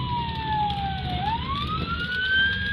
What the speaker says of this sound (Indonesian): Nah ini ada ambulan, bukan ambulan, ada kebakaran kayaknya